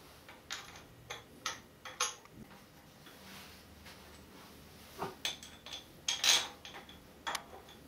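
An Allen key working bolts on a vintage air-cooled VW Bus engine manifold, a series of small metallic ticks and clicks at an uneven rhythm, close and quiet, with no talk.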